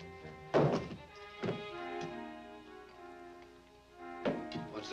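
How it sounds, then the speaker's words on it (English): Guns are tossed onto the floor under a bed in an early-1950s western film: a few dull, close thuds spaced apart, separated by quiet room tone. "Throw your guns under the bed."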